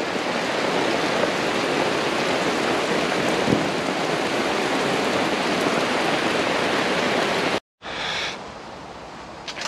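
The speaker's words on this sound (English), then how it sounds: "Well, here comes the rain again." Steady heavy rain drums on a camp tarp, a dense continuous hiss close by that cuts off abruptly near the end before resuming more softly.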